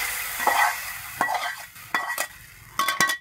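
A vegetable mixture tipped into a pot of cooking rice porridge at a vegetarian eatery, with spoon-stirring scrapes and a soft simmer or sizzle in several separate bursts, each ending in sharp clinks against the pot.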